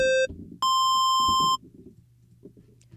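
A synthesizer patch recreating the sound of a song: a short bright electronic tone, then a longer steady note held for about a second that cuts off into near quiet.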